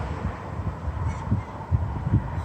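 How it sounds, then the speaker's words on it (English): Flocks of migrating birds call overhead in the evening sky over Singapore, honking goose-like notes sounding in a few distinct pulses above a steady low rumble of distant ambience. "Thousands of them migrating over Singapore."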